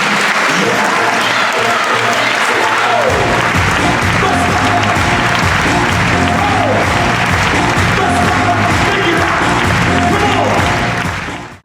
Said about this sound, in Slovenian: Bučen aplavz za Alan Green.